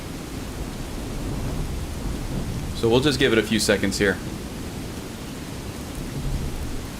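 Thunderstorm in Skyrim: steady hissing rain with a low rumble of thunder running underneath, while someone speaks briefly in the middle.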